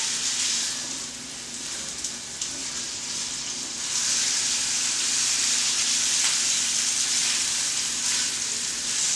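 Hot oil sizzles steadily in a pan, a dense continuous hiss with scattered spits and pops, growing louder and fuller about halfway through, with no talking.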